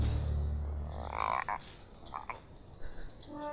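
Frog croaking in an Avatar: The Last Airbender cartoon episode, several short throaty croaks scattered over a low background rumble, fairly faint.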